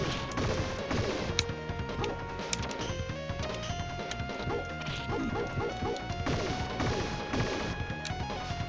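Breaking a gun in the video game Shinobi III brings dense, clattering game sound effects: rapid crashes and metallic hits over layered music, continuous and busy, with no talk.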